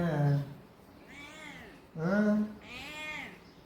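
A pet cat meows twice in drawn-out, slightly hoarse cries, close and clear, in a quiet indoor room.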